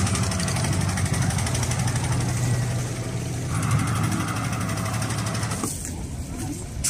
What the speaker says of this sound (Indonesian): Salah satu kapal atau perahu nelayan yang mengantar masyarakat berangkat ke salah satu pulau yang ada di Pulau Sembilan